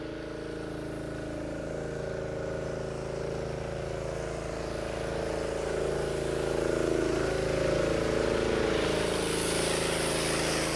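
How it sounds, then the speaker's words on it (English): A pressure washer runs nonstop while retaining block walls are cleaned, a steady droning motor hum with a slight swell partway through, close and without talking. "Hopefully we won't get drowned out by my own pressure washer we got going on"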